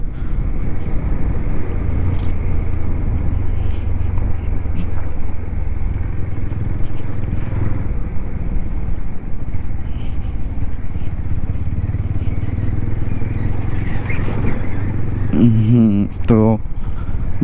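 A motorcycle ridden off-road on a rough dusty track in Jharkhand, its engine droning steadily and close throughout, with some rattling and a brief horn-like tone near the end.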